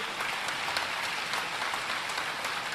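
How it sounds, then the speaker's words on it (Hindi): Sustained applause from a large audience at a Hindu religious gathering, dense and steady clapping throughout with no talk over it. "तो जोरदार ताली बजा करके"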